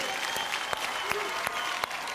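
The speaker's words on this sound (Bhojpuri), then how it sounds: "एक बार जोरदार ताली सबके हुके" An audience applauds at a Bhojpuri singing stage show with steady, dense clapping and a few sharper claps standing out, heard from a moderate distance and without talk.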